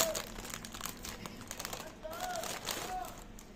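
Plastic snack bag of Toys City Pro spiced cheese crisps being opened: close, soft crinkling and rustling in irregular bursts while someone talks throughout.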